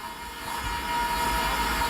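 A train standing at a station, with a steady engine rumble and a faint, sustained horn tone running over it, fairly close and continuous throughout.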